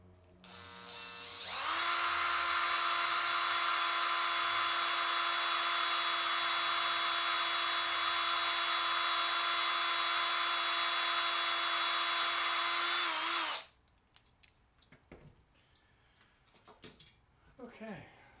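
Drill bit boring through the base of a Hot Wheels die-cast toy car, a steady high-pitched electric whine running about twelve seconds at close range, then cutting off to quiet handling noises.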